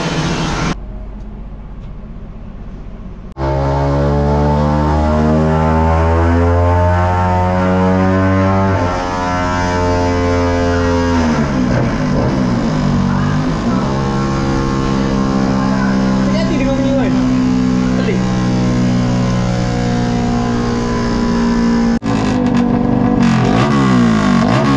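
A motorcycle engine revving on a dyno, loud and close, with rising and falling rev sweeps over about twenty seconds, preceded by a brief idle, with people talking.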